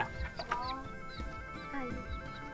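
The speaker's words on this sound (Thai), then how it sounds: "ไก่" Chickens cluck and chatter in a rural yard, several short calls overlapping at moderate distance with faint background noise and no clear speech.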